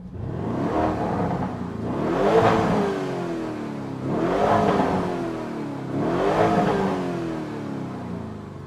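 A 2022 Lamborghini Urus in Corsa driving mode revs three times in a row, each rise a loud, rasping engine swell that climbs and falls away, close by with no talking.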